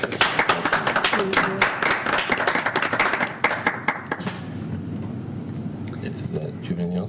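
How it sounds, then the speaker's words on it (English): A school committee meeting audience claps for departing retirees, a brisk burst of many hands lasting a few seconds before fading into low room murmur and a voice. "Let's give them a round of applause."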